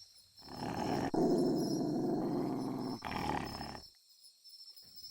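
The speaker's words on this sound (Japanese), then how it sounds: "威嚇する時の低くてうなるみたいな吠え方だったんだ" A dog lets out a long, low, rumbling growl, pauses briefly, then growls again before falling silent; close and fairly loud, no speech.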